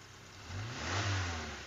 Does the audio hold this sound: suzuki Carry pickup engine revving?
yes